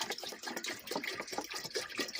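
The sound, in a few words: water poured from bottle into kettle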